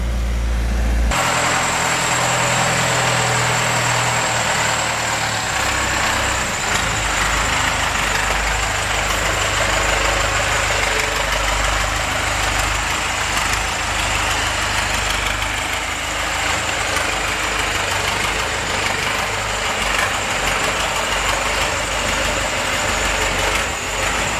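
A Toyota 4x4 with a Cummins 4BT diesel engine idling its way up an icy hill: a steady, loud, close low diesel rumble with a constant whine, continuous throughout and without talk.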